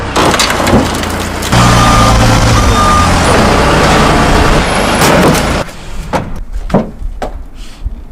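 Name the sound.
forklift lifting a car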